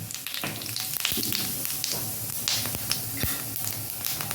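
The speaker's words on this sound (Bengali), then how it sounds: "গোটা জিরে ফোড়ন দেবো এখানে" Whole cumin seeds, added with a bay leaf, sizzle and crackle in hot oil for a potato dum curry, a close, steady frying hiss dotted with sharp pops and spits.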